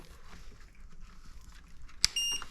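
A vacuum cleaner found in a city dumpster powers on with a single sharp electronic beep followed by a brief sustained tone, standing out near and clear over low background hum.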